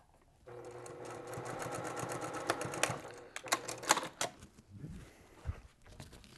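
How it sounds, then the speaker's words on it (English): A sewing machine stitches a seam on a T-shirt quilt top at a moderate pace, giving a steady mechanical whir with rapid needle ticks, then slowing into a few irregular clunks and stops. No one speaks. "And now we'll sew through here. Again, at that nice medium little pace."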